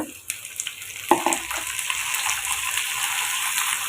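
Onions and brinjal sautéing in a home kitchen pan, a steady close sizzle with soft stirring scrapes and a brief clatter as the vegetables are added, continuous throughout.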